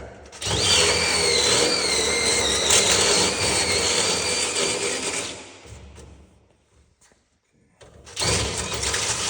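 A power drill whines loudly and steadily as it bores a hole, then winds down to near silence before starting up again.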